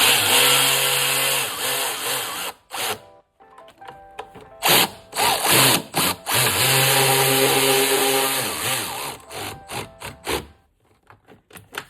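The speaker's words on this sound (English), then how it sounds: "We're gonna start to put those side screws in." A power tool drives plastic side screws into the trim of a 2019 Ford Escape. Loud whirring bursts of varying length stop and start repeatedly, close by, with no voices.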